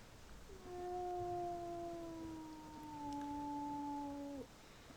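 A wolf in a video game gives one long, clear howl that holds a steady pitch, then slides slightly upward and cuts off sharply near the end, alone against a quiet background.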